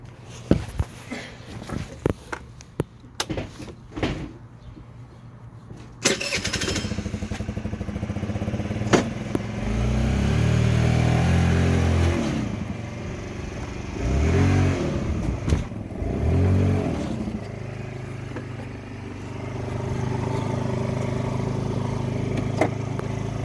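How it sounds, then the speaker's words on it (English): A brand-new Youngfu Cruze Wicked 50cc motor scooter is started after some clattering and thumps, then its small engine idles and revs in several rising bursts, close by. "This is Wicked 50cc scooter."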